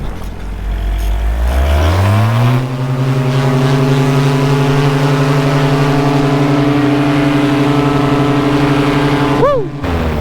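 Paramotor engine cranking up for launch, a rising whine that settles into a loud steady drone close by, holding throughout with a brief pitch dip near the end.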